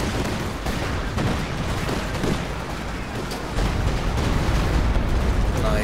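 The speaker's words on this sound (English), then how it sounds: "They're also calling you artillery support." An artillery barrage rumbles in Company of Heroes 2 during a 4v4 battle: a dense, continuous roar of explosions and distant booms with a heavier swell in the latter half, plus faint voices.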